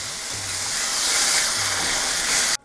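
Tomato, ginger and garlic paste frying with turmeric in a pan, giving a steady loud sizzling hiss that holds evenly and then cuts off abruptly near the end.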